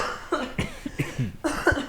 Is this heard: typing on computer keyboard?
no